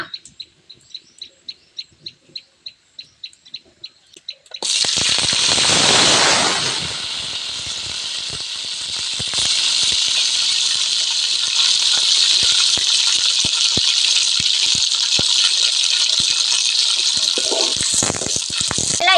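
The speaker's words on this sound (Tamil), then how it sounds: "எண்ணெய் காஞ்சுதான் வெங்காயத்தை கொட்டிக்கலாம்." Onions tipped into hot oil for Chintamani chicken, starting with rhythmic clicking before a sudden loud burst of sizzling that eases, then settles into a steady, close frying hiss.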